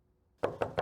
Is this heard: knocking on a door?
yes